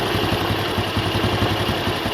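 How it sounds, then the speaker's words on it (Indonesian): A Honda bebek-style underbone motorcycle idles steadily at about 1500 rpm after a carburetor adjustment, a close, even low putter with fast regular firing pulses and no voices. "Kira-kira putaran mesin sekitar 1500 rpm untuk motor tipe Honda bebek seperti ini"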